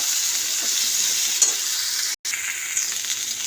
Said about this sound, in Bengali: তো এটাকে ভালো করে কষিয়ে নিতে হবে।